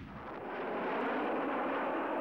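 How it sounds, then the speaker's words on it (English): A salvo of rockets fired from two aircraft pod launchers, up to 72 at a time, in the Falklands campaign era, makes a dense, continuous roaring rush that swells slightly and holds steady without pause. "These rockets could be launched 72 at a time from 2 pod launchers."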